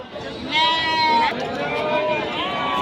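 Sheep and lambs bleat at the Haveri sheep market, several overlapping wavering calls close by, with a crowd murmuring and voices talking underneath.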